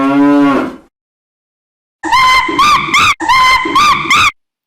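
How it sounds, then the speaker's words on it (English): A cow moos once, low and full, then after a short silence it lets out two longer, brighter, wavering moos in close succession, loud and near. "This is a cow."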